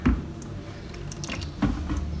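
Excess ceramic glaze is poured back from a box in a home-made spray booth, giving soft, wet squishing and sloshing sounds in a few quiet bursts close by.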